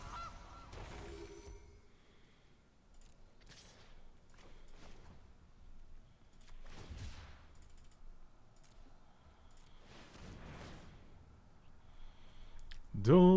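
A cartoonish goose honk sounds as a short, loud squawk near the end of a digital card game match in MTG Arena. Quiet interface clicks and whooshes come before it, and a voice talks through much of the stretch.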